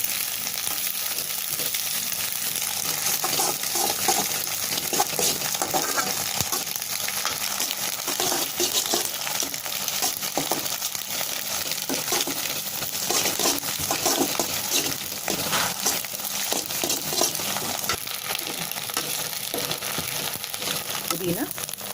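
Ingredients for egg fried rice sizzle and fry in a pan, a continuous loud crackle with stirring and scraping noises throughout, while a voice talks over it at times.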